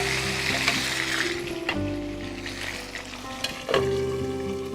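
Green chili paste fries in a pan with a continuous close hiss and sizzle, broken by scraping stirs and a couple of sharper knocks against the pan.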